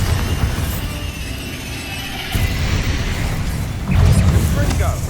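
A Bombarda explosion spell in the video game Hogwarts Legacy, heard as loud, continuous low booming with crashing impacts that swell at two points. Game noise and voices mix in throughout.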